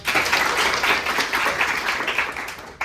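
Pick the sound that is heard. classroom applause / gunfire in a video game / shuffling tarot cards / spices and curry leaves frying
classroom applause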